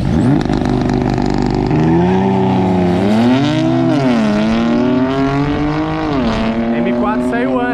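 A Porsche 911 Carrera and a BMW M4 launch in a drag race, with loud engines revving hard and climbing through rising gear pulls near the listener, while someone talks over the sound.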